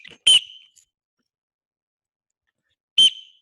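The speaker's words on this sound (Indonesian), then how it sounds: "Yang pertama bunyi peluit 1." Two short, sharp blasts of a handball referee's whistle, separated by a long silence, each shrill and clear with a quick decay.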